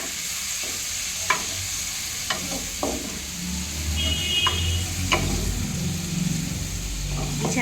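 Radish greens being stirred in a pan with a little water added, giving a steady low sizzle with scattered utensil clicks and scrapes against the pan, close and moderately loud.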